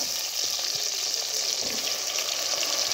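Onion, garlic and tomato fry in a pan for a potato and cluster-bean curry, a close, steady hissing sizzle with no talking.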